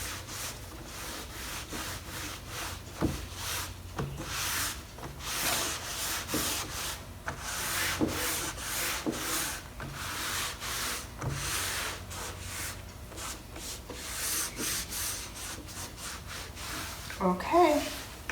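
Wax being rubbed and buffed by hand into wooden cabinet doors with Dixie Belle's Best Dang Wax, a steady close scrubbing friction in repeated strokes, with a few brief knocks near the end.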